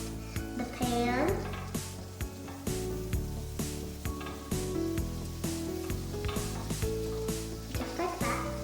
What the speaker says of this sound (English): You need to get the butter around the pan.